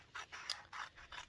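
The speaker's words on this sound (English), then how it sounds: "I'm just using like some micro tip scissors for this" Micro tip scissors cutting through quilting fabric, a series of soft, rhythmic snips and rasping slices close up in a quiet room.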